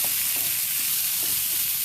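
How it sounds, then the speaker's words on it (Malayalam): Potato pieces for Kerala-style mezhukkupuratti sizzle steadily in a pan as they are stirred, a dense continuous frying hiss with soft scraping underneath, close and even throughout with no talking. "ഇടയ്ക്കിടയ്ക്ക് ഇളക്കിയിട്ട് കൊടുക്കുന്നു"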